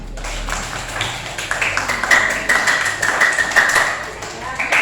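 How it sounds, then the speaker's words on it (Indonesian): Classroom students clapping for a group that presented its results, a light patter of scattered hand claps close by with voices talking over it. "Tepuk tangan untuk kelompok yang hasil tadi."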